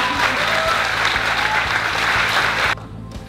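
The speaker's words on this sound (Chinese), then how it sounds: "我们给他掌声好不好？" Wedding guests clapping during the ceremony, loud, dense applause that carries over a steady rhythmic music beat and then drops off abruptly just before the end.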